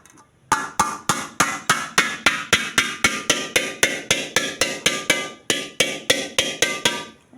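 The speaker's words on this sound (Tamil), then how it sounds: "இந்த மாதிரி ஒரு கரண்டி எடுத்து லைட்டாக ப்ரெஸ் பண்ணால் போதும்" A heavy ladle pressing and tapping a dent out of a metal cooking vessel, giving about twenty-two sharp, evenly spaced metallic knocks close by, with a short pause near the end and no talk.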